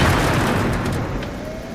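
A heavy tank cannon shot in World of Tanks, one loud booming blast with a rumbling tail that slowly fades, heard alone without talk.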